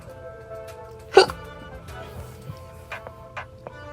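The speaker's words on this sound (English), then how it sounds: "That was a hiccup." A single sharp hiccup stands out against a quiet room with a faint ticking, followed by a few small clicks.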